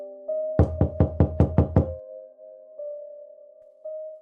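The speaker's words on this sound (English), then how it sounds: "there was a knock on the front door" Seven quick, evenly spaced knocks on a door, loud and close, over a steady low hum that continues after the knocking stops.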